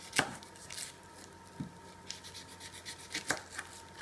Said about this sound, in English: What you do is just cut a little bit off the root part of the onion and the stem.